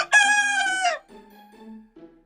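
A rescued rooster named Bree lets out a single loud, close crow, a bright harmonic call rising and then trailing into a lower, softer gurgling tail.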